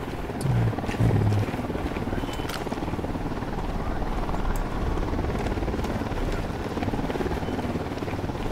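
Helicopter approaching in the video game Ghost Recon Wildlands, a steady loud rotor drone and rumble filling the clip, with brief faint clicks and sounds above it.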